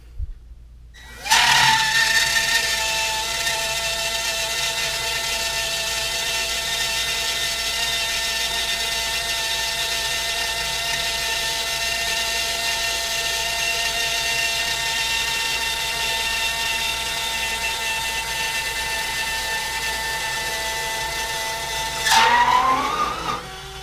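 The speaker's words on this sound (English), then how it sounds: "we're going to now run the motor all up and pump her out" An electric motor whines steadily as it pumps water out of the flooded ballast tank of a model Seaview submarine. It starts abruptly, holds an even drone for about twenty seconds, then stops.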